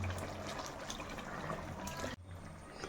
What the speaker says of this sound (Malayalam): ഇപ്പം നമ്മൾ തേങ്ങാപ്പാൽ ചേർത്തിട്ടുണ്ട്